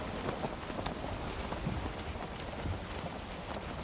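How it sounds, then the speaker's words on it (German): Steady rain hisses down during a storm at sea in Valheim while on a raft, with scattered drops and low rumbles of thunder under the continuous wash, no voices present. "Ja, der Sturm ist halt jetzt da, ne?"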